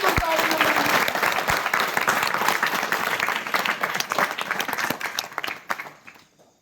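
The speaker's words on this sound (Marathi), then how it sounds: "जोरदार टाळ्या वाजून तुम्ही" An audience at a gathering with flood-affected villagers in Nandgaon breaks into loud, dense applause that holds strong, then thins and fades out over the last second or so.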